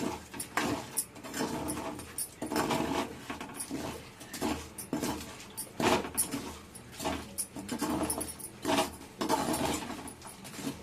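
Fried fish is tossed into a reddish pickle mixture in a pan, a rhythmic series of moist scraping and clattering strokes repeating about once a second, close up and with no speech.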